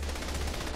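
Gunfire in the video game Saints Row: The Third, a dense, rapid burst of shots that is loud and close and lasts under a second, with no talking.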